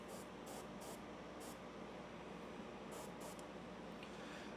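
An airbrush or spray can lays down paint in short bursts, a soft hiss over a steady background of hum and noise, quiet and close with no talk.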